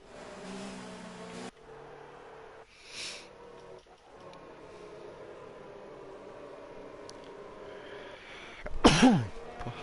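A single abrupt sneeze near the end, loud and close, cutting over the steady engine drone of a Formula One racing game at the Austria circuit.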